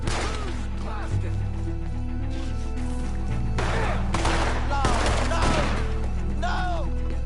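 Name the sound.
gunfire in video game Red Dead Redemption 2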